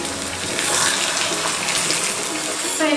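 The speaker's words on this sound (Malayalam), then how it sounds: "ഇനി ഇതിലേക്ക് നമുക്ക് ടൊമാറ്റോ പ്യൂരി ഒഴിച്ച് കൊടുക്കാം." Tomato puree is poured into a pan of chicken frying over high flame for chicken bhuna masala, producing a loud, continuous sizzling and rushing wash of sound close up.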